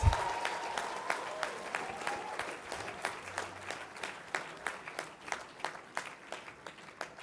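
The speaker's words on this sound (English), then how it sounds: "Let's give a big round of applause to all our BTech degree graduates." Applause for BTech degree graduates fills a graduation ceremony hall at a moderate distance. A sparse, steady rhythm of individual claps repeats over a soft crowd wash, with a faint tone at the start and no voices.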